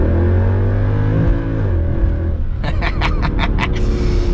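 A Mercedes-AMG car cruises on the autobahn with a steady, loud engine drone and road rumble, followed by a short run of crackling burble pops from the exhaust near the end.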